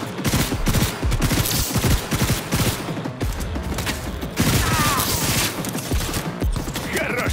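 Rapid bursts of gunfire in Cyberpunk 2077 crackle and boom almost nonstop, dense and loud, with overlapping shots and impacts.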